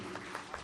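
A faint crowd applauds for the poet Dr. Soma Nair at the 19th Aalami Mushaira in 2020, a soft, distant patter of clapping with a few slightly stronger bursts.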